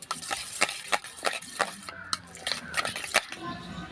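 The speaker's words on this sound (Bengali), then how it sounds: "এবার এটা ভালো করে ফাটিয়ে নেব।" Eggs are beaten in a bowl for an egg roti batter, and the utensil knocks against the bowl in quick, uneven taps and scrapes close by.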